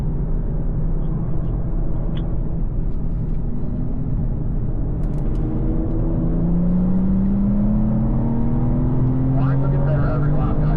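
A BMW car drives around a track corner, its engine a loud steady drone that shifts pitch as the driver eases off and then rises again, with an instructor speaking over it.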